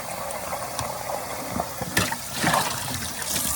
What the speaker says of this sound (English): I'm gonna throw away that first water right here.